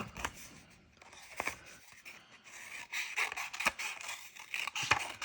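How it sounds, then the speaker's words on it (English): Scissors snip and rasp through paper in short, irregular cuts, close and quiet, with soft rustling between snips. "Gotta find some smaller scissors."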